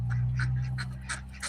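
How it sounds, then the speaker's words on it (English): Ancona and Muscovy ducks at a farm in the evening, quacking in a quick run of about five short nasal calls close by over a low steady hum. "these are our ducks. They're still awake. We have Akana and Muscovy ducks."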